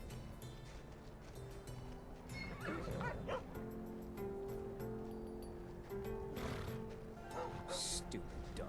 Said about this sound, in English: the dog just barks right in his face